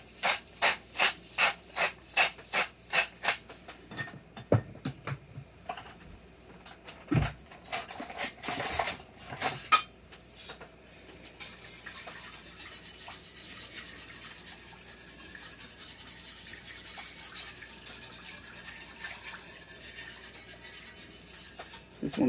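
Gravy whisked in a pan: a run of quick, evenly spaced metal scrapes at first, then a few irregular clanks as the whisk is swapped, settling into steady close rubbing and stirring. No one speaks.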